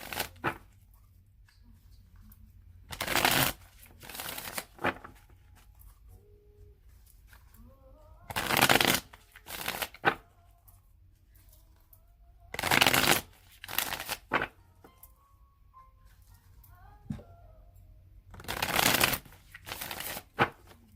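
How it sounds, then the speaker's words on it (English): Tarot card deck being shuffled in several separate bursts of crisp riffling, each lasting about a second, close and loud against a quiet room with long pauses between. "I'm going to shuffle it 3 more times."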